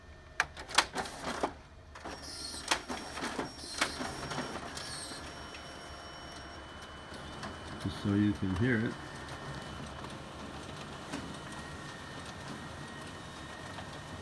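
A Ricoh MPC 4000 SPF copier with booklet finisher runs three copies from its document feeder at 40 pages per minute, giving rapid mechanical clicks and whirring, then a steady hum while someone speaks briefly.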